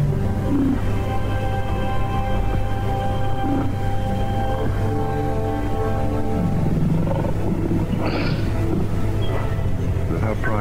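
Lions roaring and snarling in the wild as a rival horde drives them back, loud close growls and roars under narration with a steady low rumble throughout.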